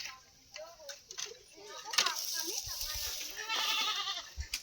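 Several goats on a Filipino farm bleat in short, wavering calls, some near and some farther off, with bursts of outdoor noise between them.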